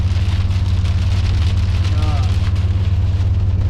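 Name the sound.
heavy rain pounding down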